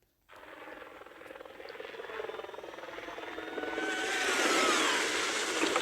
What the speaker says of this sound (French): nous arrivons tous par hélicoptère